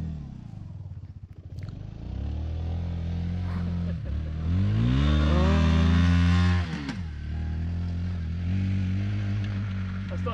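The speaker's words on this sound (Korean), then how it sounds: "그는 오토바이 타고 먼저 간다" A nearby motorcycle engine idles, then revs up with a rising, buzzing tone and pulls away. The engine note steadies and slowly fades as it rides off in the desert around Jaisalmer, India.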